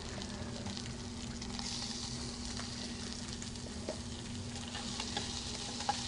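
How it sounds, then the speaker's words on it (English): Mirepoix of carrots, celery, onions and garlic stirred in a pan, giving a soft, steady sizzle and faint scraping that sits low and even under a constant electrical hum, with no speech. "Then next we're going to add some mirepoix. This is just carrots, celery, onions, and a little bit of garlic."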